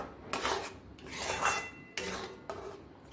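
A spoon stirring custard powder and milk in a metal pot, with several distinct scraping, clinking strokes in bursts of about a second each, close and moderately quiet, no talking.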